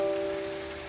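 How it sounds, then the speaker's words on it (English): Rain falling steadily, a soft continuous patter with a faint tonal hum underneath, brief and fairly quiet with no voices. "Sure is a lot of rain though."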